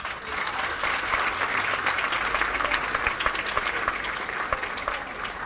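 Sustained audience applause fills the hall at a university rector installation ceremony, a dense, steady clapping wash that stays loud throughout with no voice over it.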